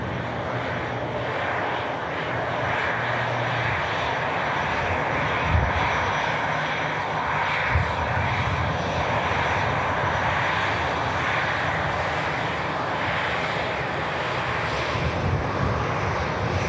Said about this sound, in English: Consecutive, beautiful touchdowns coming up.